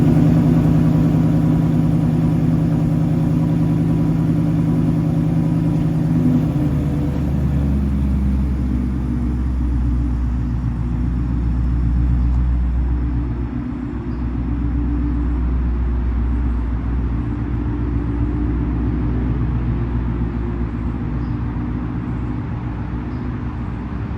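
An Infiniti G37 sits idling with a steady low engine rumble, a slight higher hum fading after the first several seconds and the idle continuing evenly and close by.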